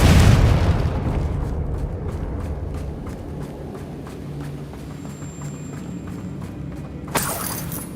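Fiery Confringo spell explosion in the video game Hogwarts Legacy, a loud booming blast that fades into a long rumbling tail, followed by a sharp crack near the end, with no voices.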